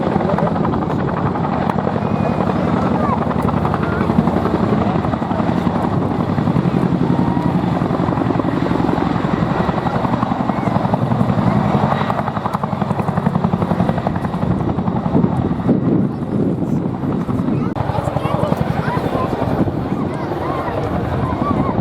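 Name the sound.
helicopter flying past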